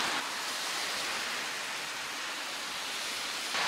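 Steady rain hisses as a broadband wash on a walk to a supermarket, a soft continuous patter that stays even and moderately faint throughout with no voices.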